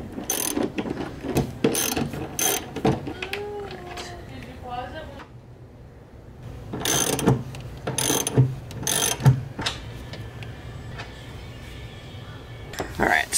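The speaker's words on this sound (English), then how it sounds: "Alright, so got the bolts out." Ratchet wrench clicking in a car trunk as bolts are removed from a strut tower brace, quick bursts of close metallic ratcheting with pauses between, while someone talks at times.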